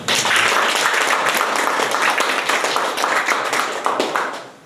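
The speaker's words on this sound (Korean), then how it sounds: "박수 한번 좀 부탁드립니다" An audience at a lecture applauds: dense, continuous clapping that stays loud throughout and tapers slightly at the end.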